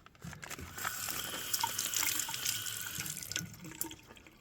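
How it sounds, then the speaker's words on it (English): Water runs steadily from a pour onto damp coffee filter paper set in a funnel, a continuous splashing trickle at close range with small surges, and no one talking. "I'm gonna wet this filter paper."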